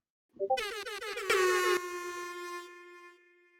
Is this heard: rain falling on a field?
no